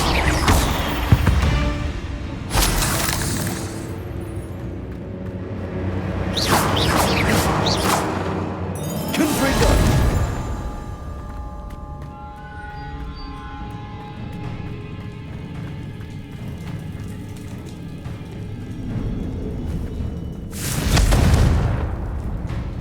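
Blasting spell explosions in Hogwarts Legacy, a series of loud booming bursts with whooshing swells, several separate blasts spaced a few seconds apart and a final heavy boom near the end.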